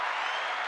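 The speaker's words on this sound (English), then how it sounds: "Right, just a hand clap to you." A short burst of hand clapping from an audience at a fasting check-in session, a dense, even patter that is fairly faint and lasts under a second, with no voices.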